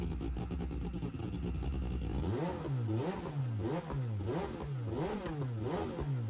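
A tuned car tuned down to 700 PP on a dirt setup in a racing video game revs repeatedly, its engine note climbing and dropping in a steady rhythm of rises and falls, loud and alone.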